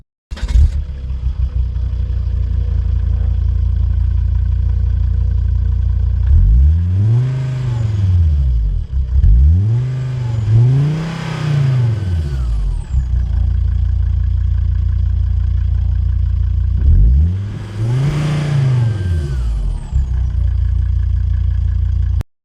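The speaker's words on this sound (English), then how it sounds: "So let's hear the exhaust." Volvo XC90 overlander with an old 5-speed automatic, idling loudly at the exhaust and then blipped in three sharp revs that rise and fall back to idle, close and alone.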